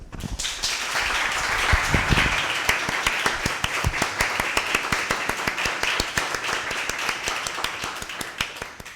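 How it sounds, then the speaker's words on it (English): Audience applause after a talk, with a dense burst of clapping that fills the room at first and then thins into scattered individual claps, running steadily for about nine seconds with no talking. "let's give them a round of applause"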